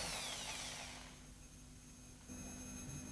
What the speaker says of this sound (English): mix the two components for about 2 minutes using a Nora stirring spindle and a drill